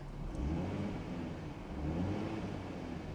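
A Chevrolet Camaro convertible engine idles and revs at a Tulsa, Oklahoma auction yard, producing a low, fairly faint, continuous rumble that swells twice with no one speaking.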